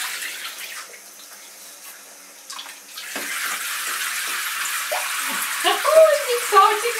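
Water gushes steadily into a bathtub, the rushing growing fuller partway through, with faint voices and small clinks near the end.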